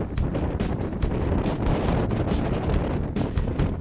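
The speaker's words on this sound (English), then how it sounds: "It was a little bit windy for the Maiden Flight" Steady, loud wind buffeting a microphone outdoors at an RC flying field, a continuous rumbling roar with gusty pulses throughout and no voices.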